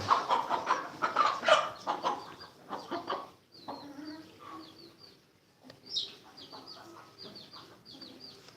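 Chickens and roosters cluck in repeated, uneven bursts, moderately close, with some murmured human voices mixed in early on.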